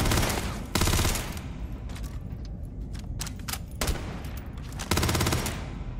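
Bursts of rapid automatic gunfire from a gun in the sci-fi video game Starfield, loud and close, with sustained firing between heavier volleys and no talk.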